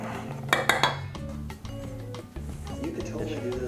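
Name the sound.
whisking sugar into mixture in a bowl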